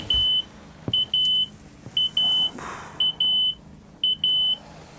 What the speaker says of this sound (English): Within seconds, the smoke detector is shrieking.